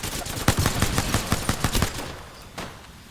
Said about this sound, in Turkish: Tabanca.